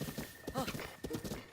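Horse hooves clip-clop in Breath of the Wild, a quick run of hollow game-style steps over about a second and a half, with a voice briefly speaking over them.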